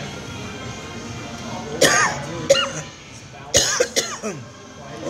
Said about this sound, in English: Sorry, I had a bit of a cough.